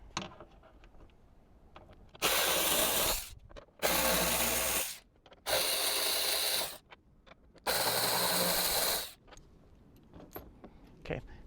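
A power tool on a Jeep Wrangler spins out T40 torx bolts in four loud whirring bursts, each lasting about a second or two, with quiet clinks and handling noises between them.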